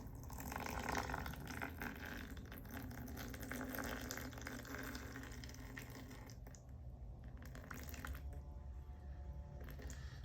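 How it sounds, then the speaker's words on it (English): Water poured into a sourdough leaven, about 45 grams measured into the starter, a faint, close, continuous trickle and splash lasting several seconds with no talking over it. "So now I'm going to add 45 grams of water."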